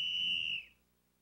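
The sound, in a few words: referee blowing whistle on the ice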